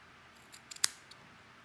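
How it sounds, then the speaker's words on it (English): A few quick snips of scissors cutting cotton wick for an RDA coil build, close and crisp, with one sharper cut standing out amid quiet. "Go ahead and cut some of this."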